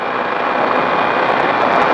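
A motorcycle engine accelerates on the Magny-Cours race track, heard from onboard as a loud, continuous roar blended with rushing wind and no talking.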